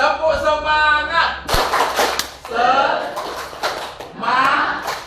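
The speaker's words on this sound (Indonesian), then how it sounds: "Tepuk semangat." A group of teachers doing a rhythmic 'tepuk semangat' clapping routine, with sharp bursts of hand claps punctuated by loud chanted voices and shouts, close and lively.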